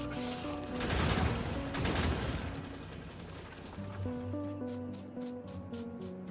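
Gun turrets in Factorio fire at attacking biters, producing a dense, rumbling spray of rapid shots that swells and then thins into scattered repeated pops, with game tones layered underneath.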